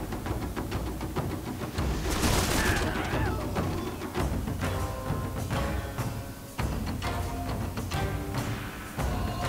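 Volleys of gunfire from snipers in Shogun 2: Total War, rapid overlapping shots and distant booms crackling continuously amid battle noise.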